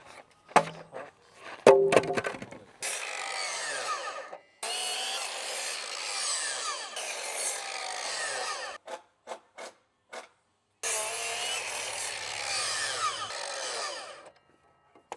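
A power saw cuts 2x6 wood boards in several long passes, each a loud rasping whine lasting a few seconds, separated by short silences and clunks of handling the lumber.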